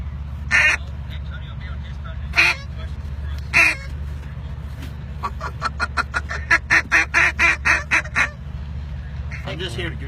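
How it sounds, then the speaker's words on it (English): Goose call blown by hand, several loud, close honks early on, then a quick run of about eight rhythmic clucking honks and a final call, over a low background hum with speech present. "I'm just here to goose call."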